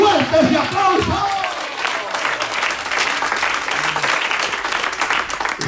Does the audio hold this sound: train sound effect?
no